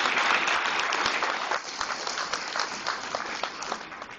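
An audience applauds during a talk, a dense burst of clapping that is loud at first and then thins and softens over a few seconds.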